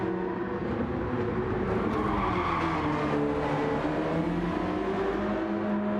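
A Subaru BRZ Gr.3 race car in Gran Turismo 7 at Montréal, its engine droning loudly and continuously with shifting revs as it pushes through traffic, tire noise mixed in.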